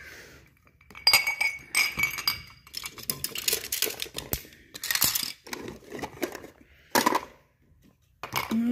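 Cups and glasses clink against one another as they are set into a basket, a string of close, bright, irregular clinks and knocks with no talking.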